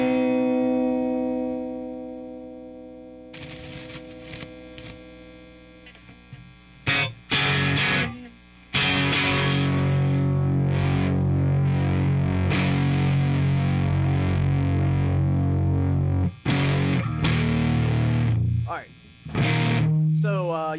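Electric guitar played through a Z.Vex Box of Rock distortion pedal, loud and saturated, with sustained chords and riffs broken by brief pauses and sharp attacks.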